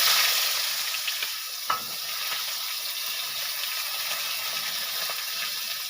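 Chopped onions fry in a pan with cumin seeds and a dried red chilli for chicken kosha, a steady broadband sizzle with a few soft stirring knocks and no voices.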